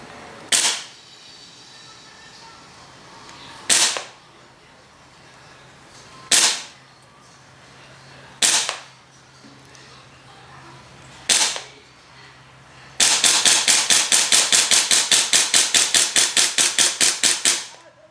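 Airsoft Desert Eagle .50AE pistol fires five single sharp cracks a few seconds apart, then a fast burst of about twenty rapid snapping shots, loud and close with no voices.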